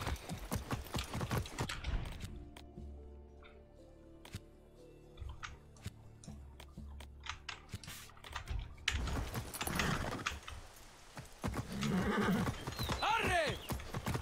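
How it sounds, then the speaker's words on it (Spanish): A horse gallops in the video game Far Cry 6, with rapid, close hoofbeats that drop back to lighter clopping in the middle, then a snort and whinny near the end. "¡Me voy a llevar el caballo!"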